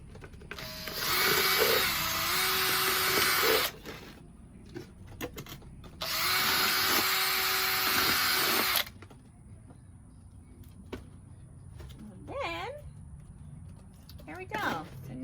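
A power drill bores drainage holes through the bottoms of plastic cups used for potting tomato and pepper seedlings, running in two steady bursts of a few seconds each with brief handling noises between them.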